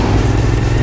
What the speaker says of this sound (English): the engine is a bit chuggy, and you can like feel it / hear it.